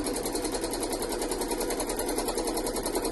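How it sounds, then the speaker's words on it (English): A sewing machine stitches a leaf shape into Lutradur fabric, running with a fast, even mechanical rhythm that stays loud and constant throughout, with no voices. "you'll see I'm just sewing a leaf shape there"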